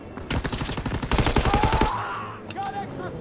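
Rapid, loud bursts of MG machine gun fire in the World War II shooter Call of Duty WW2, with a dense rattle of shots that gives way to scattered distant gunfire and battle noise.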